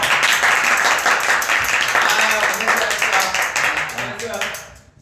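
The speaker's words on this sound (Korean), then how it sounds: "우리 오늘 상 받은 거 자 일단 박수 한번 칩시다" BTS members clap their hands together to celebrate an award win at the AMAs, a brisk burst of close, rapid claps with voices talking and cheering over it, fading out near the end.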